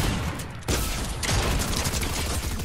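Dense gunfire in an action video game during a chase, sustained broadband volleys with a sharp jump in intensity midway, loud and continuous with no talk over it.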